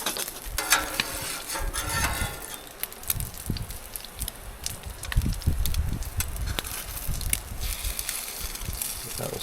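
Eggs frying on a Blackstone griddle alongside moose sausages and bacon at a Newfoundland cabin, a soft continuous sizzle with scattered scrapes and clicks, fairly faint and without talk.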